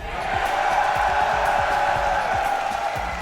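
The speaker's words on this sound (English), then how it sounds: "Pretty loud, Tim" Esports arena crowd at the Montreal Major counter-strike playoff between Team BDS and FaZe Clan, a dense steady roar of many voices cheering and whooping throughout, loud and sustained without clear pauses.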